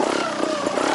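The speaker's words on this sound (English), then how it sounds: "I don't like how slow the rev on this bike is" A trials motorcycle engine, carburetor needle lowered a notch to run leaner, revs in a loud, steady buzzing drone close by, with no voices.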